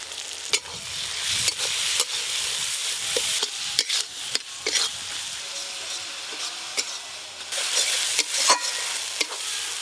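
Chopped onion frying with ginger-garlic paste and spices crackles and sizzles loudly in a pan while a spatula scrapes and knocks repeatedly in an uneven rhythm; nobody speaks.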